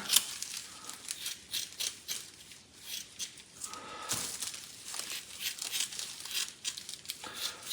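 Scissors snip and crinkle through stiff fiberglass in quick, uneven cuts, close by, with rustling and crunching between the strokes.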